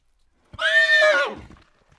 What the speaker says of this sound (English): You may hear the echo of a horse where no horse stands.